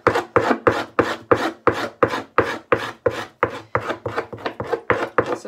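A rock scraping raw fish skin for leather, about fifteen evenly spaced, close rasping strokes in a steady rhythm, alone with no talk.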